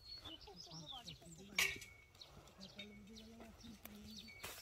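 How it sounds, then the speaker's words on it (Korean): Birds sing in the early morning over a farm field during the garlic harvest, with scattered high chirps and tweets drifting in and out under nearby talking voices. "새소리."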